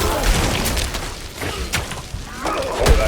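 Necromancer corpse explosions in the Diablo IV beta campaign, a dense game mix of repeated booming thuds and shattering crashes, loud and continuous with several sharper hits throughout.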